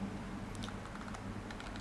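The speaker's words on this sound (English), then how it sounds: "They are very clicky, even these keys." Rapid, crisp clicking of the buttons on an Ajazz GP100 game controller, a quick irregular patter of light taps heard up close against a quiet background.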